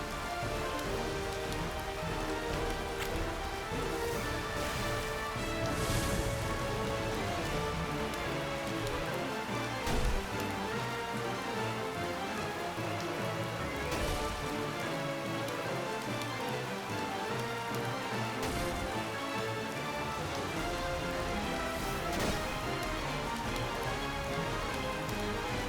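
Steady rain in the video game Horizon's Gate patters and hisses continuously on a surface, a dense, even wash of drops with no voices.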